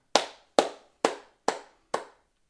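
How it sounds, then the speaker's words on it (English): Five single hand claps spaced evenly about half a second apart, close and crisp, with silence between each clap and no talking. "Clap along with me."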